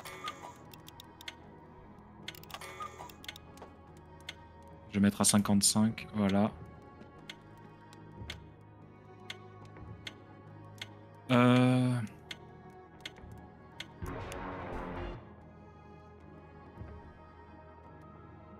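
Faint, steady clock ticking in the video game We Were Here Together runs through the scene as a soft repeating tick, partly covered by people talking and a few louder bursts.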